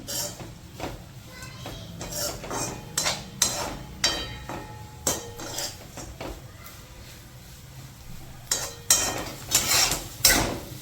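Dried onion is stirred in hot oil in a pan, with a utensil scraping and knocking irregularly against the metal over a soft frying sizzle.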